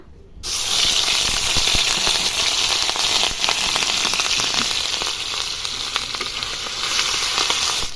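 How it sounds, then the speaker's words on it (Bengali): Onion paste hits hot oil already tempered with cardamom, dried red chilli and nigella seeds, bursting into a loud, dense, continuous sizzle that holds steady close by with faint crackles and no talking. "পেঁয়াজটা আমার ভাজা ভাজা হয়ে আসছে"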